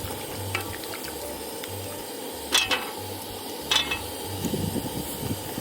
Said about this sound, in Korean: 보글보글 끓어오를 때 불을 꺼